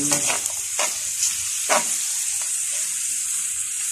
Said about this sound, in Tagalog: Hintayin natin mag-brown ang sibuyas at bawang.